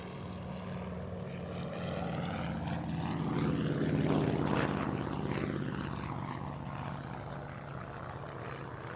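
An Avro Anson twin-propeller aircraft flies past at an airshow, its engine drone rising as it nears, peaking loud overhead with a sweeping pitch shift, then fading away.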